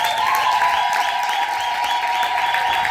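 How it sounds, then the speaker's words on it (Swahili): A church congregation claps in a dense, steady wave of applause, with high trilling ululation cycling over it throughout. "Chapa makofi na vigeregere."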